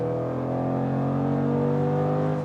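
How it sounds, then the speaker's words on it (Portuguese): A Jaguar F-Pace SVR's 550 hp V8 accelerating hard from 60 to 120 km/h, a loud, steady roar that builds over a couple of seconds, heard close up with no talking. "Barulho do motor."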